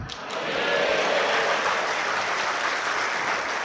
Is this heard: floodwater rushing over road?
no